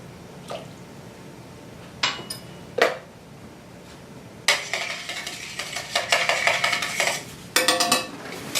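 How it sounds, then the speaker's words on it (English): A metal flat whisk scrapes and clinks against a pan while mixing a mustard sauce with lemon juice, a few scattered taps followed by rapid, close scraping strokes. "flat whisks, a metal flat whisk, is great for this type of job because it'll scrape the bottom of your pan"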